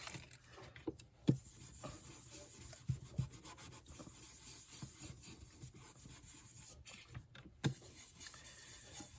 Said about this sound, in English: I'm gonna have to rub off the excess here